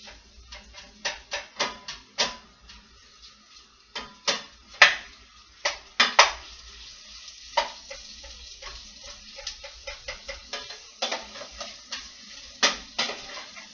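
A wooden spoon stirs onions in olive oil in a pot over raised heat, making a steady run of sharp knocks and scrapes against the pot with a faint sizzle underneath.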